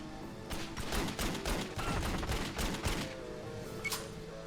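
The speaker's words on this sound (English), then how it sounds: "Get to see what the shooting's like" Rapid automatic gunfire from the video game Wheelman rattles out in a dense, loud string of shots lasting several seconds before trailing off into scattered reports.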